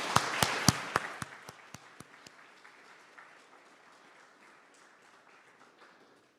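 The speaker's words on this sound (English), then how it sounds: "please give our virtual program staff a round of applause" Scattered claps from an audience of virtual program staff and guests at a completion ceremony, a few sharp distinct hand claps at first, then a softer, thinning patter that fades over several seconds.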